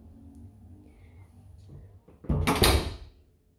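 The front door of a first-floor flat at Mitre House opens with a soft rattle, then swings and shuts with a louder thud and brief clatter near the end.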